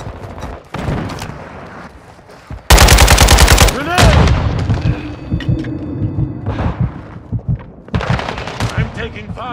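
AK47 gunfire in Call of Duty MW2 multiplayer on the Shoothouse map: a loud rapid automatic burst followed by scattered shots and impacts, with game voices and effects around it.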